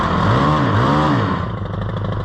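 A Stihl HT 131 pole pruner's small brand-new engine runs close and loud, revving up and dropping back briefly before settling into a steady idle.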